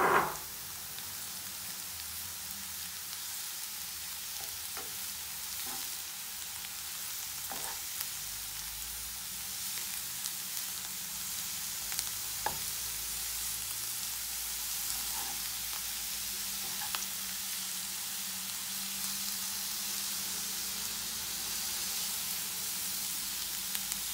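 Steady, quiet sizzling of beets frying in a pan, a continuous crackling hiss with occasional small pops and stirring sounds, no voices.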